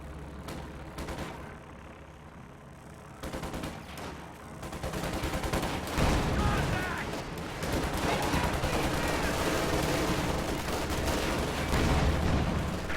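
Machine-gun bursts and Panzer IV tank fire crackle in a WWII strategy game battle, a dense, loud fusillade of rapid shots and heavy booms that builds after a quieter opening and keeps going to the end.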